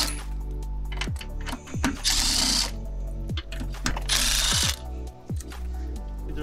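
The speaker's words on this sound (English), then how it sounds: "I'm gonna use a 10 millimeter on a impact gun just to kind of speed it up." An impact gun with a 10 mm socket removes bolts during an air intake kit install on a 2006-2012 Toyota RAV4 3.5L. Two loud, short rattling bursts stand out amid scattered clinks and tool handling.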